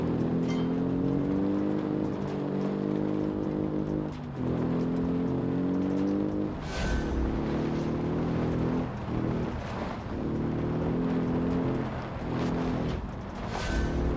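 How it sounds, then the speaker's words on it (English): A 1972 off-road car's engine drones and revs slowly while driving in BeamNG, a steady loud low harmonic hum rising and falling in pitch across the whole stretch with brief dips between gears. "Oh, the engine revs really slowly"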